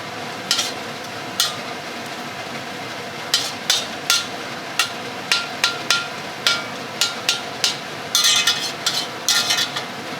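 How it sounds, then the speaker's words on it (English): Metal utensil scraping and tapping against a pan while stirring onions and noodles under a steady frying sizzle, a regular series of sharp clacks roughly every half second, close and loud with no voices. "Occasionally stir it."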